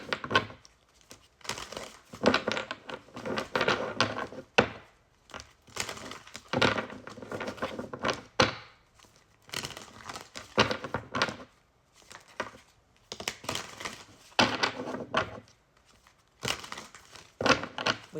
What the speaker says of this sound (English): I'm going to shuffle this deck a whole bunch.